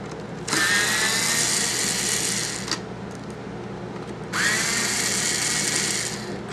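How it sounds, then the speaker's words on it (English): A power screwdriver whirring as it backs screws out of a PlayStation 3 40GB console casing, two sustained buzzing runs of about two seconds each separated by a short pause, close up. "we're gonna take these screws off"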